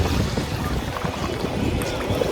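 Waves slapping against a small boat on open water, choppy splashing and sloshing with gusty wind buffeting the microphone, fairly loud and close, continuous and uneven.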